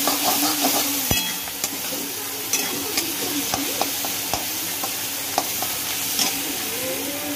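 A paste of green chili, garlic and coriander sizzles in a pan with onion while it is stirred, a continuous loud frying hiss broken by close scraping strokes.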